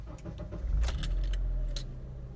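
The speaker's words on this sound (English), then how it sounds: "So now that you turn the car on" Keys jangle in the ignition of a Honda Element, then the car's engine turns over and settles into a low, steady idle, close and clear.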